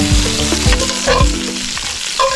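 Lamb knuckles browning in a hot cast-iron potjie pot, a loud continuous sizzle and crackle of frying fat with periodic clunks and scrapes as the meat is stirred, no voices.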